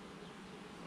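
Buckfast honey bees swarm thickly over a six-frame hive on a hot day, making a faint, continuous, even buzz with no voices.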